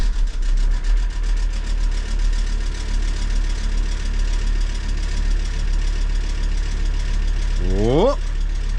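A car engine in a workshop under heavy mechanical repair idles with a loud, steady low rumble and rhythmic knocking, then revs up sharply near the end.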